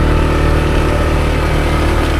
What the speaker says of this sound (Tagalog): Hirap na hirap yung makina natin